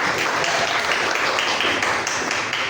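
Applause from an audience during a university teaching session: a short, steady burst of many hands clapping together, loud and continuous throughout, with no voices over it.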